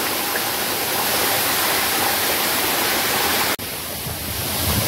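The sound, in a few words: Navlai waterfall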